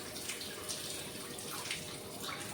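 A tap runs steadily at a sink, a continuous close-up rush of water with a few faint splashes, and no talking.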